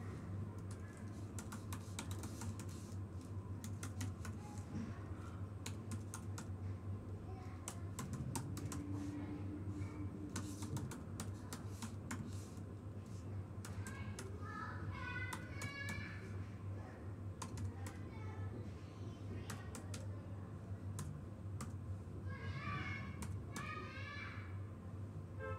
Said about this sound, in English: Let me type in this.